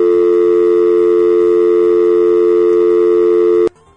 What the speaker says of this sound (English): That's a dial tone, for those of you who've never used anything other than a cell phone.